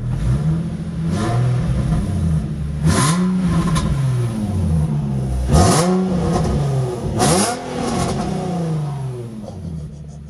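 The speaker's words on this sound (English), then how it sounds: "I guess the stock airboxes definitely sound a lot better" A Nissan G35/G37 engine with stock intake airboxes revs repeatedly, rising and falling in several throaty bursts of varying pitch, loud and close, with no talking.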